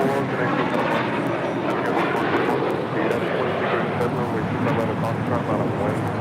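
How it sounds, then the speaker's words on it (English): A JetBlue Airbus A321 jet takes off, its steady, loud broadband engine roar holding constant and close throughout, with faint radio chatter under it. "flight 424, taking off to JFK on an A321."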